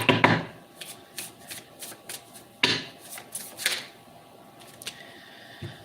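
Tarot cards being shuffled in bursts: a crisp riffle at the start, another near the middle, with softer flicking and tapping of cards in between, close and fairly quiet, no talking.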